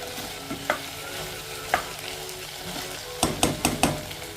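Chicken liver sizzles softly in a pan while a utensil scrapes and taps against the metal, with a few scattered clinks and then a quick cluster of stirring knocks near the end.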